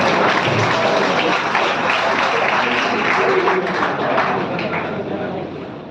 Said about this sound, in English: Please welcome him with a big round of applause, everybody.